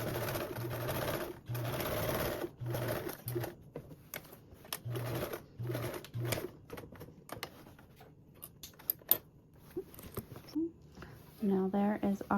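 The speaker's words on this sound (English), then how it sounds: "This time we are going to sew across that marking to the end, and now sew down." A sewing machine stitches duffle bag binding in short, rapid runs of mechanical whirring, stopping and starting repeatedly, with soft handling clicks between runs and a person talking near the end.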